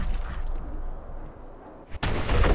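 A scoped sniper rifle fires a single loud headshot from a kneeling position in Fallout 4, the sharp crack landing near the end after a stretch of quieter game ambience.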